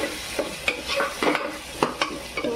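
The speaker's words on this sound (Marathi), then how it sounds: "व्यवस्थित ढवळून घ्यायचं आहे।" Several scraping, clinking stirs of a spoon through thick chana dal with turmeric and masala in a pot, repeated in an uneven rhythm with a soft sizzle beneath.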